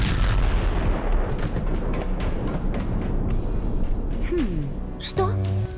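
An explosion sound effect in a game of extreme hide-and-seek in boxes, booming and rumbling continuously under a dense wash of noise, with a short swooping tone and a sharp burst near the end.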